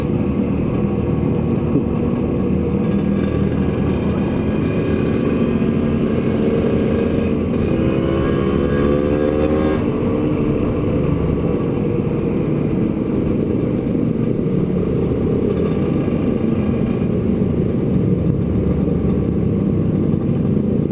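A Suzuki V-Strom 250 touring motorcycle rides along steadily, its engine drone blending with heavy wind rumble, with a brief rising pitch sweep midway from a passing engine.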